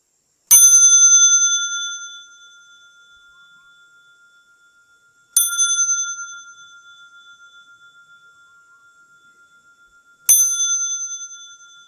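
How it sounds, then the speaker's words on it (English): A bell rings three times at a meditation retreat to signal lunchtime, each clear metallic strike spaced about five seconds apart and ringing out slowly into silence. "I wasn't going to ring the bell, but then I thought you wouldn't know that it's lunchtime"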